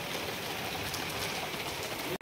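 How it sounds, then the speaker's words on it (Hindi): Steady rain pours down with a constant broadband hiss, loud and close, continuing throughout before cutting off abruptly at the very end. "यहाँ बारिश पड़ रही है"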